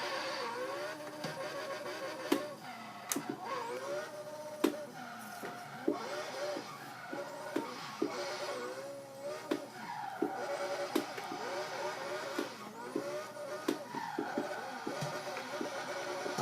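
Racing game car driven with a sim racing wheel and wired handbrake lever, continuous engine whine rising and falling with gear shifts, tire squeal and scattered sharp clicks, no talk.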